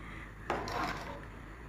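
A single soft clank of a lid set onto a cooking pot of harees made with wheat and a little meat, followed by a brief light rattle over steady background hiss.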